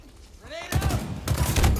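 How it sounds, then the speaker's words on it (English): A grenade explodes in a Halo Infinite Oddball match, a sudden loud burst of gunfire-like blasts and rumbling impacts that cut in abruptly after a brief moment of quieter game sound. "I got destroyed by the grenade"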